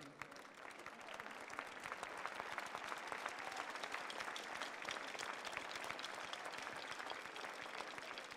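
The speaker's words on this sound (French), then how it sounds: "bien les applaudir" Sustained crowd applause at a world pastry championship, many hands clapping in a thick, even wash that runs unbroken for several seconds.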